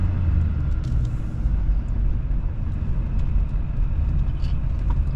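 A Duramax diesel engine in a Chevrolet Silverado pickup idles after a cold start, giving a steady, loud, deep rumble with no break and no voices.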